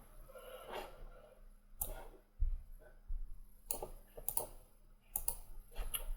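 A computer mouse clicks a handful of times, quiet and crisp, in short irregular bursts against a faint room hum while navigating spreadsheet tabs.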